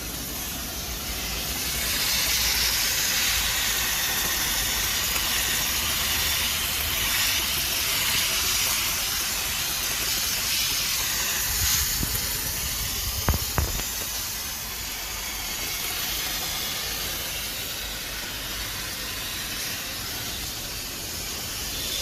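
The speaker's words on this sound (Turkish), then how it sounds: "buharlı temizlik aleti." A Wipcool C30S portable, corded handheld steam cleaner gives off a steady, continuous hiss of steam close by, running unbroken throughout with a few faint clicks midway and no talk.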